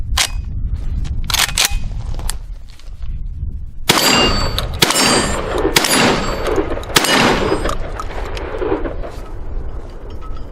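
Metallic clanks and a sharp clang of the carrier release on a Citadel Boss Hog 12 gauge shotgun, recorded close and loud over steady outdoor background noise.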